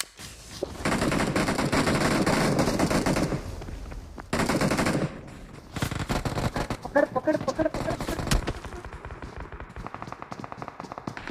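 Gunfire in the mobile battle royale game BGMI, with rapid automatic bursts and single shots in irregular volleys, loud and close, while players shout over the shooting.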